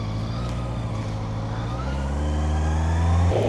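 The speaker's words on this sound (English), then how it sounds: "Oh, I love the sound of this bike." A motorcycle engine on a ride over the Horseshoe Pass in North Wales drones steadily up close, then its revs climb toward the end, with no talking over it.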